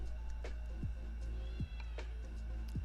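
A house cat meows loudly and repeatedly at close range, three or four sharp calls in quick succession over a steady low indoor hum, with no speech.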